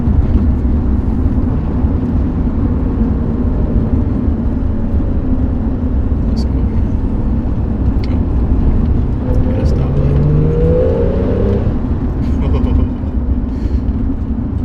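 Porsche 911 991.2 with an upgraded tune accelerating, a steady loud engine drone heard from inside the cabin with rising tones as it builds speed throughout.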